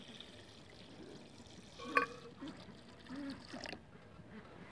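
Diesel fuel poured out of a fuel filter on a YuMZ-6 tractor, a soft liquid trickle with a brief splash, and quiet voices nearby.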